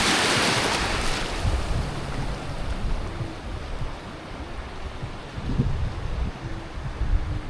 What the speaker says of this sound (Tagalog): Lumalaki ang alon.